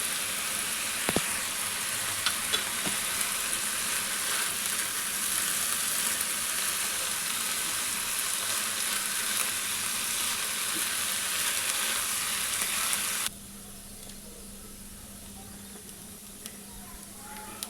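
Chicken pieces fry in a pan for a chicken patties filling, a loud, even sizzle with occasional stirring scrapes that runs for most of the clip before dropping abruptly to a quieter low hiss.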